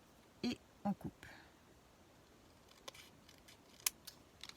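Scissors cut vellum paper for a flipbook pouch: two or three quick crisp snips close by near the start, then quieter scattered clicks and light paper handling in an otherwise quiet room.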